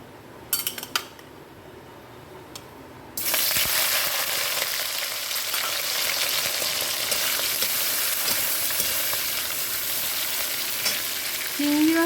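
Prawns drop into a pan with a few clinks, then a loud, steady frying sizzle takes over, with a spatula scraping and stirring through it up close.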